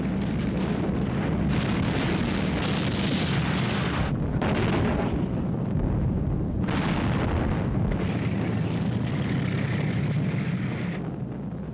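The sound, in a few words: Soviet T-34 tanks firing at point-blank range in battle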